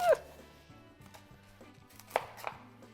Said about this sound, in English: I'm also gonna chop a yellow onion.